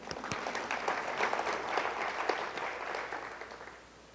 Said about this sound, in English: Now we need a round of applause for that.